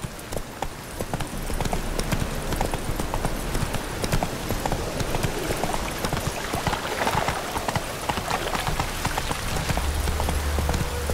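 Roach, a horse in The Witcher 3, galloping steadily with a dense, continuous patter of hoofbeats at a fast rhythm, fairly close and even in level throughout, with no talking.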